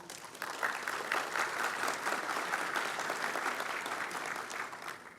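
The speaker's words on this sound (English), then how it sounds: "they deserve a great round of applause" An audience at a hospitality technology hall of fame induction applauds, sustained dense clapping at moderate level that swells early and tapers slightly near the end.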